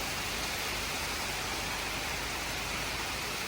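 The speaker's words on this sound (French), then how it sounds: "ce que vous entendez derrière, c'est pas le ventilateur, c'est la pluie" Rain falls steadily outside, a dense, continuous hiss with no breaks, fairly loud and even throughout.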